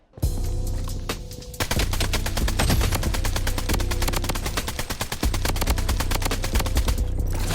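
Rapid automatic gunfire from a high-damage mid-to-long-range rifle in the shooter game Blood Strike, a dense continuous burst of shots lasting several seconds with a brief pause near the start, loud and close.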